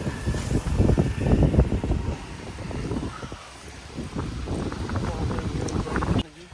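Strong wind blows across an open outdoor farm setting in Punjab, battering the microphone with heavy, low rumbling gusts that rise and fall without a break.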